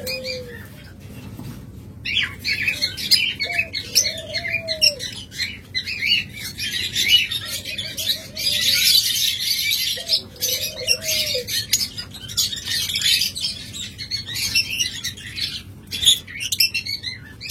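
Cockatiels and lovebirds in a bird shop chirp and squawk in scattered high bursts, a dense chatter of several birds at moderate distance with a few louder calls standing out.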